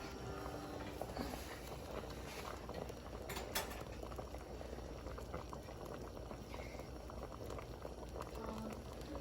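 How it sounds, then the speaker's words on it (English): A pot of Jamaican stew peas bubbles at a steady rolling boil, continuous simmering and popping with a faint clink partway through, no voices. "I want the pot to start boiling up"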